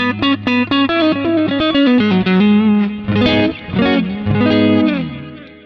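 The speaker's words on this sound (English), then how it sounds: "I've turned the chorus effect off so you can just hear the sound of the pickups." Custom Fender Stratocaster electric guitar played alone, clean pickup tone with chorus off, a trail of delay and roomy reverb; plucked notes and chords ring out in a steady melodic line.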